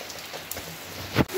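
A steady hiss of heavy rain falls on roof tiles, with a couple of louder taps near the end, in rural Carnaubal, Ceará, Brazil.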